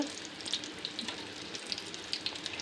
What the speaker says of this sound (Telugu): గోల్డెన్ బ్రౌన్ క్రిస్పీగా వచ్చేంత వరకు ఫ్రై చేసుకోండి